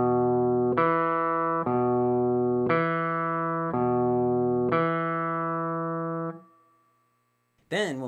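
Clean single notes on a slide guitar, five sustained tones played one at a time with deliberate muting between them so each note stops sharply before the next, ending in a brief silence.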